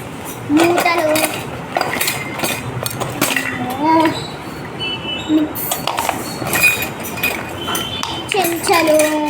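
Kitchen dishes, steel plates, glasses, lids and spoons being picked up and set down, with frequent close clinks and clatters throughout while a person talks over them.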